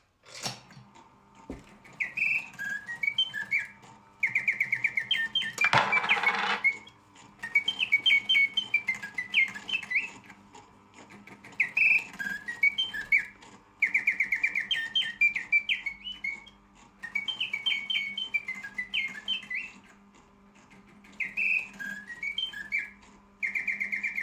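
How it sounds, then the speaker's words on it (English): A Bontems coin-operated triple singing bird automaton, originally penny-operated, pipes fast warbling, chirping birdsong in repeated bursts of a few seconds separated by short pauses, close and steady over a faint mechanical whir. "a Bontom's triple singing bird on originally penny operation and now coin slot for whatever coin you like"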